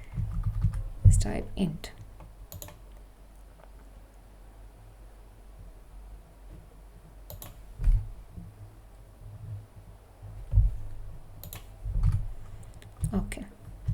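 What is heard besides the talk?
typing code on a computer keyboard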